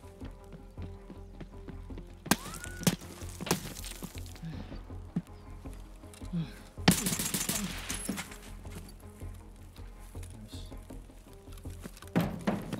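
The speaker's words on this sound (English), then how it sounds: "Getting shot at." Gunfire in Escape from Tarkov, with sharp shot bursts and a longer loud volley mid-clip over a steady game background, some shots closer and louder than others, with occasional faint voice murmurs.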